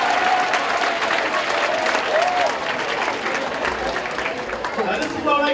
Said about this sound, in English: Give yourselves a hand clap.